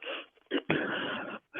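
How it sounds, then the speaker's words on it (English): Heavy breathing comes through an online group call, several loud, rasping, wheezy breaths with short gaps between them, close to the microphone. "somebody's breathing heavy"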